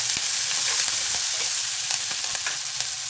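Green chillies and capsicum sauté in a hot pan for veg momos, giving a steady, close sizzle with faint stirring clicks and no voices.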